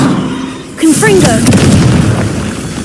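A Confringo spell bursts in the video game Hogwarts Legacy, a sudden loud boom with a crackling fiery tail, backed by game music and a voice.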